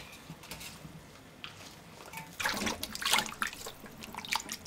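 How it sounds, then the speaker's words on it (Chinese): Blanched noodles for a crayfish stir-fry are rinsed under cold running water, a soft, close splashing and trickling that swells midway, with no one talking. "拿上來過水一下，洗一洗"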